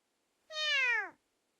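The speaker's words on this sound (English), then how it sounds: "Cat. This is a cat." A single clear cat meow, rising then falling in pitch, close and alone, lasting well under a second.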